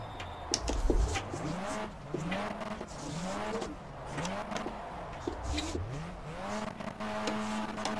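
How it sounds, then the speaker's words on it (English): Simulated race car engine in the rFactor racing game, revving repeatedly against the rev limiter in a rhythmic rising-and-cutting pattern, with occasional tire squeal, loud and steady, no talking. "There's the rev limiter."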